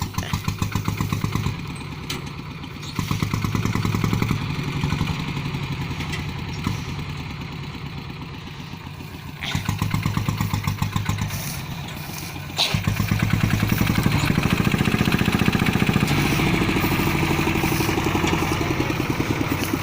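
A running engine revs up and settles back to idle several times. Its steady, rough drone surges louder around the middle and again near the end, with no talking over it.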